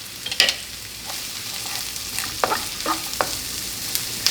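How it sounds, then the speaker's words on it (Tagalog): Onions fry in hot oil in a wok for a Filipino appetizer, a soft continuous sizzle broken by several crisp scraping clicks of a spatula stirring, moderately loud and close. "Papainitin lang natin tong mantika. Unahin natin ilagay dito yung sibuyas."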